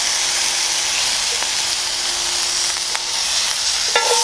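Morel mushrooms sear in butter in a pan with a loud, constant sizzle and hiss, broken by a few faint clinks from the pan.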